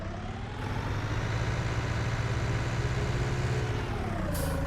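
A steady, rumbling tractor engine in Farming Simulator 19 drones continuously at close range, its pitch shifting slightly near the end, with no speech.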